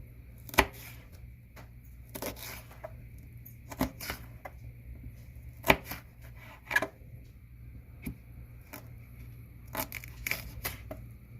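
A small knife slices vegetables very thin for a flatbread pizza, making sharp, uneven chops and crisp cuts on a board, some louder than others, against a quiet background.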